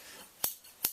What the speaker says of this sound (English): Rob, don't play with scissors.